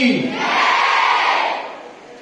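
A crowd at a pen-distribution gathering in Siricilla roars a slogan back in unison. It is one loud, sustained collective shout of many voices that swells and then fades over about two seconds.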